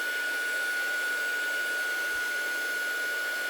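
A heat gun blows in a constant, steady whoosh with a faint high whine as it heats embossing-style powder on a craft project, running unbroken with no talking.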